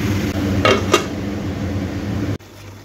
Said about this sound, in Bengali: ঢাকনাটা খুললাম